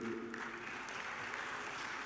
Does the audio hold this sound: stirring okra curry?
no